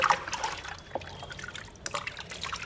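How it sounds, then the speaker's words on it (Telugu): Water trickles and splashes steadily as both hands are rinsed of shampoo foam and dirt during a manicure, a soft, close, continuous wash with no talk. "ఇట్లా బోత్ హ్యాండ్స్ని చక్కగా మనం క్లీన్ చేసుకున్న తర్వాత వాటర్తో"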